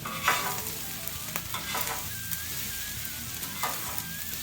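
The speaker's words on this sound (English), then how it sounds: "We got our fried rice cooking." Fried rice sizzles steadily in a hot pan while a utensil stirs and scrapes it in a few distinct strokes, close up, with no one talking.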